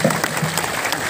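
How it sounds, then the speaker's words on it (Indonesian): Audience applause at an anniversary celebration event for a regency in Lampung, Indonesia: dense, steady clapping from a crowd filling the moment without pause, with faint voices mixed in. "Tepuk tangan dong untuk tulang bawang ini."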